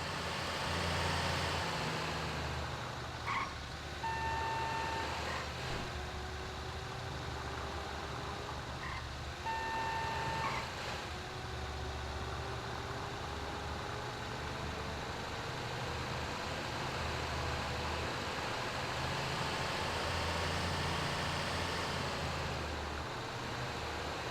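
Heavy port machinery in GTA 5 operates with a steady low engine rumble, while two short runs of repeated reversing beeps sound over it. No one speaks.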